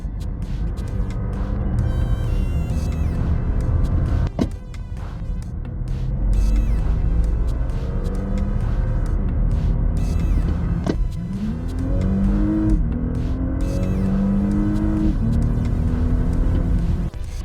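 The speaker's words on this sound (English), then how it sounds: "Switching to dynamic mode again, we feel the car is significantly faster and finally responds more quickly to the throttle." An Audi SQ5 SUV in dynamic mode accelerates hard, its engine rumbling loudly as it climbs through the revs and shifts gears, heard from inside the cabin with a steady low drone.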